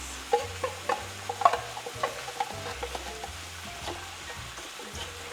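A sandwich filling being stirred in a bowl, with soft, irregular scraping and squelching strokes close by and a few sharper knocks of the utensil.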